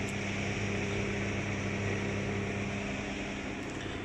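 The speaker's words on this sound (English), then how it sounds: "I put compressor and 100-liter compressor in this box" A 100-liter air compressor runs inside a homemade noise-reduction box fitted with a rear fan, giving a steady, muffled motor hum and drone that holds constant throughout.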